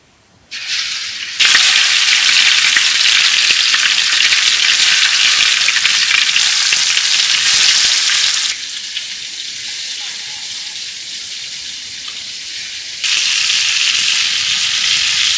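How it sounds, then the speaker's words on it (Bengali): Food frying in hot oil, turned over to cook the other side: a loud, steady sizzle fills the whole stretch, easing slightly in the middle before surging back, with no talking over it. "অন্য পাশ ভাজার জন্য উল্টাই দিই।"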